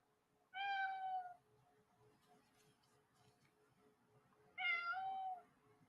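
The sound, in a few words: cat meowing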